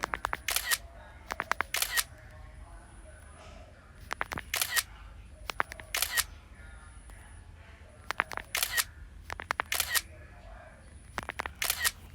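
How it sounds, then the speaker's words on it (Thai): An iPhone X or iPhone 11 fires camera-shutter clicks for rapid screenshots, crisp close clicks in tight bursts of two or three, repeating about every two seconds over faint room noise. "คลิกถ่ายรูปไปแบบรัวๆเลยนะครับสองสามรูปนะครับ"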